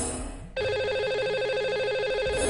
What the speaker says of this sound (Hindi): तो इन्हें अभी हम लगाएंगे कॉल और करेंगे बात।